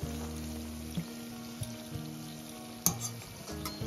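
Tel pitha rice cakes fry in hot oil with a steady bubbling sizzle. Sharp clinks and scrapes come through at intervals as the cakes are lifted out of the pan.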